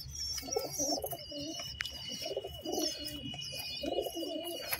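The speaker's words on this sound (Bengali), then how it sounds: "এখানে একজোড়া পায়রা আপনারা দেখতে পাচ্ছেন।" A pair of pigeons in a loft with eggs and a chick in the nest coo in repeated rolling phrases, close and fairly soft, with faint chirps from other birds in the background.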